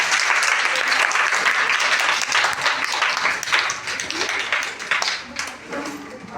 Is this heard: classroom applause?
yes